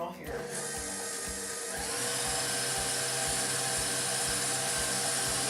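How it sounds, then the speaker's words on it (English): An electric mixer turned up to high speed whips a mixture of cream cheese and whipped cream, a steady loud mechanical whir with a rhythmic rattling pulse running throughout. "You want to turn the speed up as much as you can so you can get a lot of air in the cream cheese and the whipped cream mixture."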